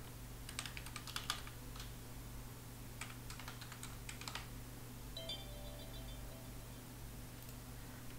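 Computer keyboard typing a username and password: quick clusters of light key clicks in short bursts over a steady low hum, followed by a few faint electronic beeps.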